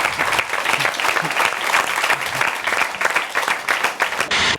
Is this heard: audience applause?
yes